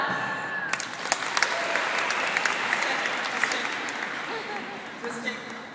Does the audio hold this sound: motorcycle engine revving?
no